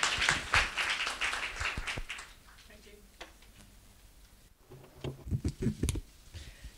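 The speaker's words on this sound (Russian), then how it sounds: "Давайте встретим дружными аплодисментами." Applause from a conference audience welcoming a speaker before a veterinary talk on cranial nerve disorders in dogs and cats, moderate clapping over the first two seconds, then a quiet room, with a voice briefly heard near the end.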